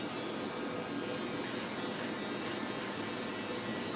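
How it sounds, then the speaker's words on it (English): An electric shaver runs with a steady, close buzzing hum while it cleans hair clipper blades, continuous and unbroken for the whole stretch. "Come back with the shaver to clean things out."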